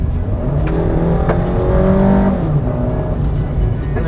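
A Maruti Suzuki XL6 with a 4-speed torque-converter automatic accelerating hard, its engine droning and rising in pitch, loud and close, laboring as revs climb.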